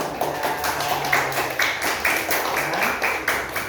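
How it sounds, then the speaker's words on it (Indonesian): Many children's hands clap in a steady, even rhythm, roughly two claps per second, moderately loud with a faint background murmur. "Pinter, tepuk tangan."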